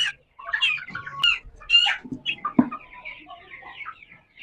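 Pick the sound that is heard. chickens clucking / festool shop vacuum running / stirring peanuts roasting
chickens clucking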